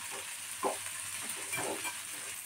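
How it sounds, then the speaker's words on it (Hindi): Chillies frying in an onion garlic chutney, a continuous hissing sizzle with two brief scraping stirs of a spoon in the pan. "मिर्चा डालने के बाद इसे भी हम अच्छे से दोनों को मिला के अच्छे से फ्राई कर लेंगे"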